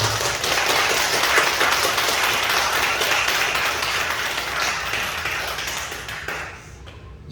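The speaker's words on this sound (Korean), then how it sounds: "이 시간 하나님께 영광의 박수를 올려드리겠습니다" A large church congregation applauds together during a Sunday service in a sustained, loud wave of clapping that gradually fades toward the end.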